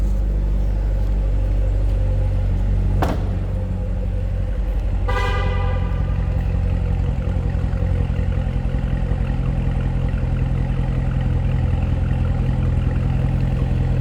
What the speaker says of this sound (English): You can hear the variable exhaust.